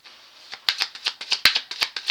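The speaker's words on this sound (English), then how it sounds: "I want to shuffle." Tarot cards are shuffled at close range, giving about a dozen quick, crisp riffling bursts in a steady rhythm with no talk.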